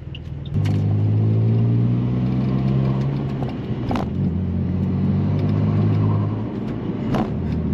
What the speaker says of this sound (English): This car is turbocharged, so there was a turbo spool there.